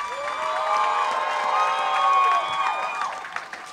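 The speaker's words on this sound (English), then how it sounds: "Give a big round of applause to Teddy Mama." Comedy show audience applauding and cheering during a tribute, with loud sustained whoops and raised voices over clapping that builds and then tapers off.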